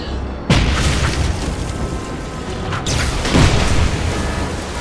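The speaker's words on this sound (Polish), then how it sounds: "Tutaj ogień zaczyna wybuchać." Fire explosions in Wolfenstein: loud, sustained blasts and roaring rumble with a sharp burst at the start and another surge midway, continuous booming without any talking.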